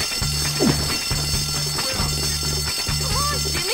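Fire alarm in the video game Bully, ringing in steady repeated pulsing bursts about a second long, continuous under background game noise and scattered voices.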